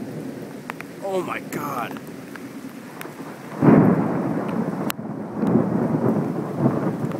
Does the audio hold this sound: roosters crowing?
no